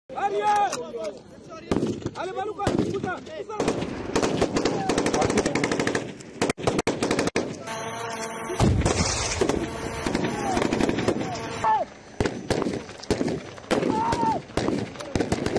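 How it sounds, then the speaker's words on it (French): Military training firing demonstration by Congolese troops in Ituri: loud, sustained bursts of automatic gunfire with rapid cracking shots, interrupted by brief pauses, with a few voices faintly heard between volleys. "aux manœuvres et démonstrations de tir dans le théâtre des opérations."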